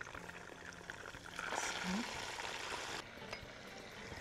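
Meat pieces laid skin side down into hot oil with garlic sizzle and crackle steadily, swelling louder midway and then settling, close by, with faint voice underneath.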